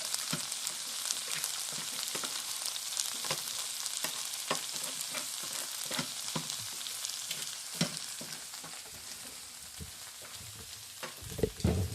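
Tortilla chips for migas fry in a pan with a dense, steady sizzle, crackling throughout and punctuated by scattered stirring clicks and scrapes, close up and with no talk.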